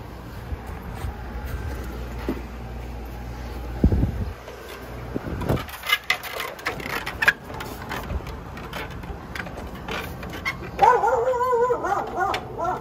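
A puppy gives scattered whimpers and then a burst of yips and barks near the end, against mechanical background noise, with no speech.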